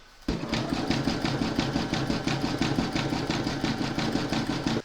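An embroidery sewing machine stitches a satin stitch border, starting abruptly and then running in a fast, even mechanical rhythm of needle strikes, close and loud, with no talk.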